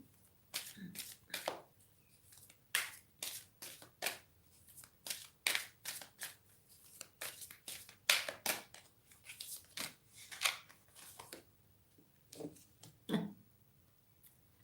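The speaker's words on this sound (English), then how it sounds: "I'm going to draw a light card for the divine masculine" Tarot cards are shuffled and drawn by hand in a run of crisp, close papery riffles and flicks, arriving in quick bursts with brief pauses between them.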